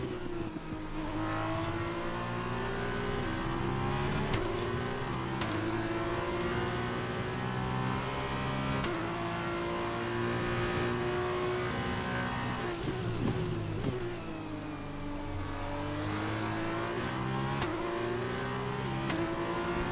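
Open-wheel F2 race car engine in the F1 2021 game at Bahrain, sustained loud revving that climbs and drops through gear changes over repeated laps, steady and close with no talking.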